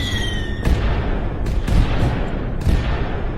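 Fireworks bursting in Skyrim, a few sharp booming pops at irregular intervals over a steady dense background rumble, loud and close with no talk.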